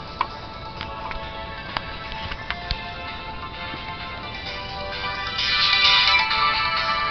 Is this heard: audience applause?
no